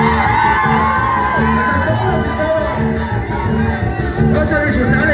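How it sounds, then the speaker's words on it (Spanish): Festival crowd at the San Sebastián patron saint celebrations shouting, whooping and cheering continuously over dense music, loud and close throughout. "¿Y cómo grita la gente de San Sebastián?"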